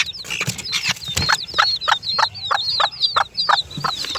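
A Gold Sebright chicken in a coop gives a rapid series of short, repeated calls about every quarter second, fairly close, with faint rustling and other bird sounds in the background.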